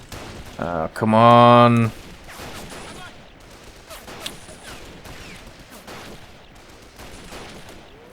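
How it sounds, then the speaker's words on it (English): Gunfire from soldiers in the Men of War: Condemned Heroes mission "Final Combat", with scattered shots and bursts through the battle ambience and one louder burst near the start; someone briefly speaks. "And I wish they would stop shooting, but there we go."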